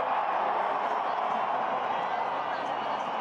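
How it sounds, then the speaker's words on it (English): A large crowd at the Mexico City Formula E race gives a steady, dense roar of cheering that is broad and sustained throughout, with a commentator's voice likely mixed in. "Listen to that crowd."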